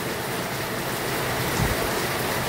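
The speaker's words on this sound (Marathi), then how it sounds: "पाऊस इतका जोरात पडतोय बघा" Heavy rain pours down steadily in a dense, even hiss that fills the whole clip, with a brief louder thud of water near the middle and no voices.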